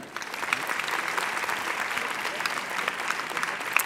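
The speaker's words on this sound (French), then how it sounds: "Vous pouvez continuer à les applaudir un petit peu." An audience at the Cap'Com Grand Prix 2019 award ceremony applauds the honorees: sustained, even clapping from a large crowd, moderately distant, steady throughout with occasional sharper claps.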